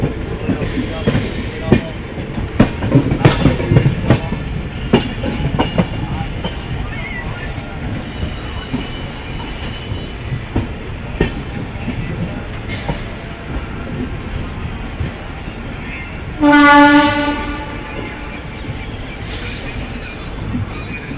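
A Duronto Express sleeper-class train runs toward Vadodara Junction with a steady rumbling roll and rhythmic wheel clatter throughout, and a brief, loud, tonal horn or squeal sounds near the end; the noise is close and continuous.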